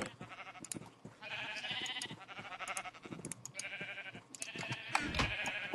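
Sheep in a Minecraft-style survival game bleat several times, wavering nasal cries that come in short bursts over a busy background of clicks and ambient game sounds.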